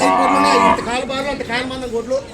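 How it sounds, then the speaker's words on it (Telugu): A young Ongole calf at a cattle market gives a loud, drawn-out moo up close, followed by a few shorter, wavering calls. "ఒంగోలు చేత దూడ అండి ఇది."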